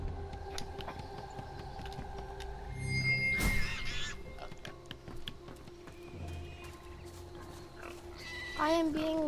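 Pigs in the video game Divinity: Original Sin 2 grunt and oink in short bursts over a quiet game soundscape, with a louder squeal near the end.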